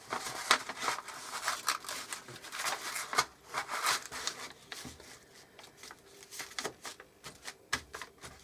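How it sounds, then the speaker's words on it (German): A sheet of paper is handled and crinkled while a template is made for a small leather belt pouch, giving soft rustles and sharper crackles in irregular bursts, close and quiet. "Und jetzt nehme ich ein Stück Papier, mache mir also eine Schablone."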